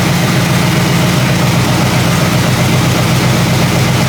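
A 1977 Pontiac Grand Safari station wagon, left sitting for 30 years, runs its engine at a steady, loud, close-up idle with a deep, continuous rumble and no break.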